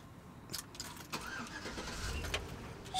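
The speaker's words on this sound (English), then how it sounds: "Start right up." A 2005 Chevrolet Tahoe Z71 bought at auction cranks and fires up, with a few sharp clicks and a jingle of keys before the engine catches and settles into a running hum close by.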